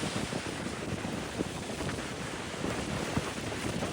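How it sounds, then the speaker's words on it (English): Ocean waves crash and roll steadily onto a near-deserted beach at Newcastle, New South Wales, heard from a high cliff top, as a constant broadband roar mixed with heavy wind buffeting the microphone. "The waves really crashing in."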